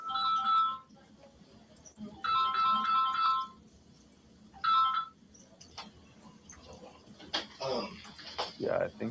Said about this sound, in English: Is that her phone ringing?